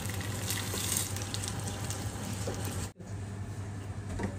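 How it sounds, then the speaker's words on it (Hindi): Chopped nuts frying in ghee in a pan for bottle gourd halwa, giving a close, steady sizzle and crackle under a low hum, with a brief dropout partway through. "पैन में घी डाल दिया, उसमें चॉप हम डाल देंगे सारे नट्स, इसको फ्राई कर लेंगे।"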